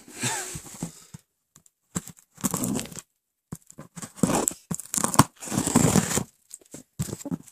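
Scissors snip and tear at packaging tape on the box of an LED par can light, in short bursts separated by silences, close and crinkly, with no talking.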